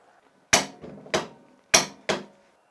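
A Parkside PASSK 20 Li cordless impact wrench set to 300 Nm loosens a bolt, giving four sharp, loud hammering bursts in two pairs, each ringing briefly before decaying, separated by short silences.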